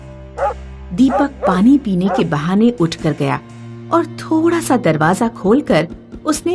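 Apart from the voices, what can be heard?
dog barking, horror story sound effect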